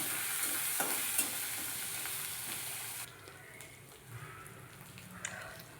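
Ground spice paste roasts in a spoonful of oil in a wok over a low flame, with a loud sizzle and stirring scrapes that soften partway through into quieter frying and occasional taps.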